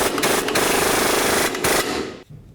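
A power tool runs a nut onto the control arm strut of a 2007-or-later Toyota Tundra: a steady, loud, buzzing rattle lasting about two seconds, with brief dips, then cutting off.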